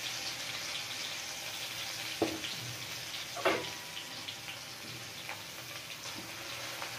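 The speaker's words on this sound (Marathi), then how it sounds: "आता या ठिकाणी मी अद्रक लसूणची पेस्ट टाकलेली आहे तेलात" Ginger garlic paste sizzles in hot oil with a faint, steady hiss that holds throughout. A couple of soft clinks stand out briefly.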